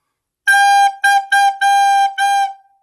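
A recorder plays five clean, bright notes on G in a ta ti ti ta ta rhythm: one long note, two quick short ones, then two longer ones, heard alone and close.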